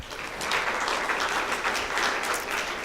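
Audience at a design conference panel breaks into steady, dense applause throughout, a full room clapping together at fairly even loudness with no pauses.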